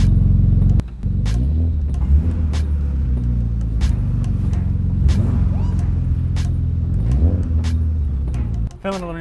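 A supercharged BMW M3 on its first drive around the block, a deep steady engine rumble from inside the car with rising revs and gear changes, loud and close, with a few clicks near the end.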